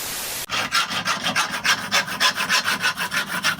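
Steady rhythmic rasping of a file working down a metal part during a scooter crankshaft bearing replacement, a close, loud back-and-forth scrape repeating about three times a second after a sudden start, with no talk.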